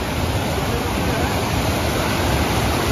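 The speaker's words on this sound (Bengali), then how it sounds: "এখান থেকে নদীর স্রোত আসছে।" A river current rushes steadily near Jogighat in light rain, a loud, even broadband roar with no breaks.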